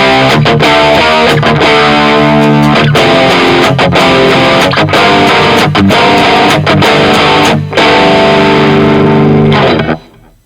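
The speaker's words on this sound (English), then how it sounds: "if I turn off the overdrive pedal and just use the amp head" Electric guitar played through a Neural DSP amp head with the overdrive pedal switched off, giving a crunchy, broken-up tone; loud, continuous chugging chords and riffs with brief rhythmic stops, ending abruptly near the close.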